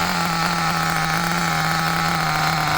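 An old 2003 HPI Nitro MT2 nitro RC truck engine with no compression idles steadily, a continuous buzzing drone with a constant hum throughout, close and loud, with no talking.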